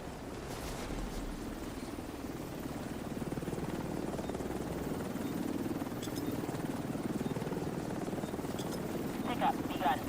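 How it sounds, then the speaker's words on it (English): A helicopter arrives for a pickup in The Division 2, its rotor a steady droning rumble that holds at an even, moderately loud level throughout, with faint game chimes and clicks scattered over the top. "Helo arrived."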